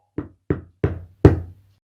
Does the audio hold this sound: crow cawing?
no